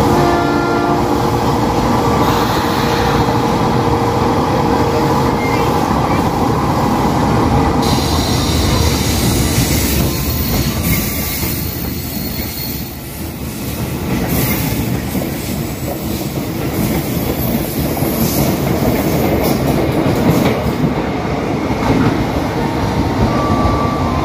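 A train rumbles loudly through Kampung Bandan station with continuous wheel roar, squealing rails and metallic clatter, the sound swelling and easing over about twenty-four seconds with a brief horn-like tone near the start.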